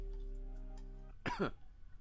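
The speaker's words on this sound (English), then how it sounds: "The weed is making me cough now." A person coughs from smoking weed, two or three harsh rough bursts coming in quick succession close by after a steady low hum.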